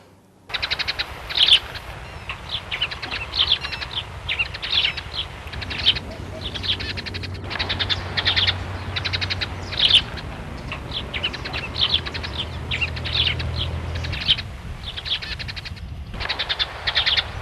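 Several birds chirp and call outdoors in the open countryside, with steady bright twittering running throughout, moderately loud and fairly close, and no talking.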